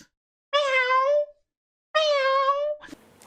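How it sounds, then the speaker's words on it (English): A cat in a movie scene meows twice, clear and close, each call drawn out for most of a second with a pause between them, followed by a brief soft rustle. "Oh, and don't let me get started with the freaking cat."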